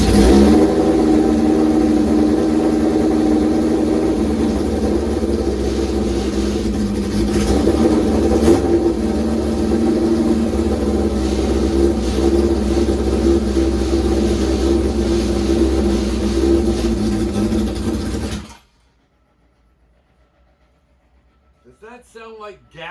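A never-ridden motorbike with its choke held open runs loudly up close, a rough, uneven engine note that keeps going for most of the time, then cuts off abruptly into near silence with a brief voice at the end.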